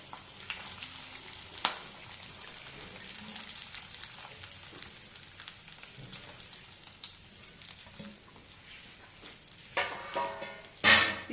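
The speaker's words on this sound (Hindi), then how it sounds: "इस तरह चला के इसको लाइट गोल्डन ब्राउन सेक लेते हैं" Finely chopped onion with curry leaves fries in a pan, a low steady sizzle with occasional soft stirring scrapes, ending in a few louder clattering strokes close by.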